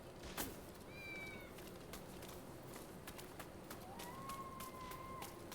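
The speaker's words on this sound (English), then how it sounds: "Can hear the cat." A cat in a video game meows twice, faint and distant, with one short cry and a longer drawn-out one over a steady ambient game background.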